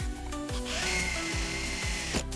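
A power drill whirs in short repeated bursts as it drills out broken screws on a Volvo S60 mirror, its motor pitch rising and falling, close and fairly loud with no talking.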